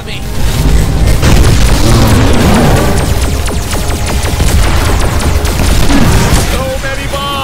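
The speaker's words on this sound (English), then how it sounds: "So many bombs!" Dense, loud barrage of booming bomb explosions and rapid bursts in the VR game Voltron VR Chronicles, continuous and close, with voices talking over the noise.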